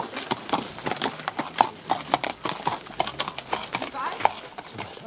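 Haflinger horse hooves clip-clopping at a walk and trot, a steady run of sharp, close hoofbeats with an occasional whinny, while people talk over them.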